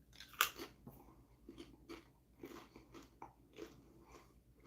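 Cool Ranch Doritos chips crunched and chewed close to the mic, a loud first bite followed by a run of softer irregular crunches, quiet overall with no talking.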